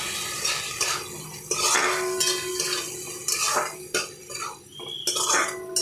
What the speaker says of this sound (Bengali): এবার আমি একটু ভাজা চিকেনের বলগুলো দিয়ে দিলাম।